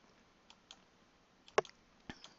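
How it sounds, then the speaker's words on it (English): A computer mouse's left button clicked at irregular intervals, a handful of soft, sharp ticks with one louder snap near the middle, close and quiet in an otherwise silent room. "continue left clicking"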